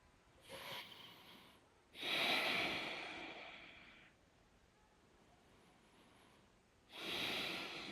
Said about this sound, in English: Keep breathing in and out through your nose.